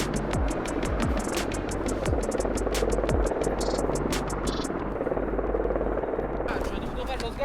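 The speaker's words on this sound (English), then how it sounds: "An Italian helicopter lifts a Finnish snowmobile off an American warship and carries it to a clearing in Norway." Italian military helicopter lifting a Finnish snowmobile off an American warship toward a clearing in Norway, its rotor chopping and engine droning loud and steady throughout, with radio-style voices speaking over it.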